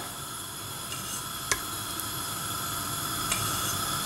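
Smen butter sizzles in a cooking pot, a soft steady hiss with faint crackle and a couple of light clinks, quiet and even throughout.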